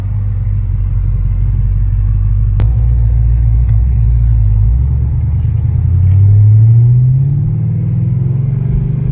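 A cammed Chevrolet Camaro SS 1LE V8 on E85 idles with a deep, loping rumble up close, its uneven chop throbbing low, then the revs rise briefly before settling back.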